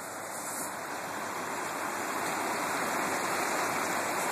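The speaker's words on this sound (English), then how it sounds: "You can kind of see a creek flowing back in there." A flooded creek backed up behind a wooden dam and spilling into a field, its water rushing in a steady, loud, unbroken roar from start to finish, with no voices.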